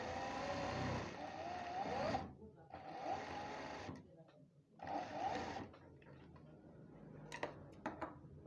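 A sewing machine stitches the seat seam of a trouser in three close, loud bursts of rapid mechanical whirring, separated by short pauses with light handling clicks.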